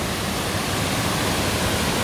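Mountain waterfall in Shan State, Myanmar, issuing from high in the mountains, heard as a dense, constant broadband rush of falling water, steady and close, with no talking.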